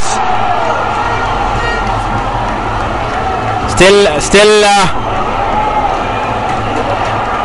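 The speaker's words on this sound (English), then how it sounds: "the crowd is jam-packed" Jam-packed crowd at a Kandy SC versus Navy SC rugby league match, a steady roar of spectators under loud commentary, with a brief burst of cheering near the middle.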